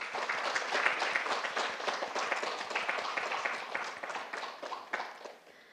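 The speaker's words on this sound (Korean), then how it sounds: "다시 한번 큰 박수 부탁드립니다" A lecture audience at a televised special seminar gives a round of steady, fairly soft clapping with distinct individual claps, tapering off near the end.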